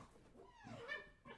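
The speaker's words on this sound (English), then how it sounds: "Yeah, you gotta ignore the dogs." Young dogs whine and yip close by, a brief, high, wavering whimper rising into a short yelp, quiet and alone.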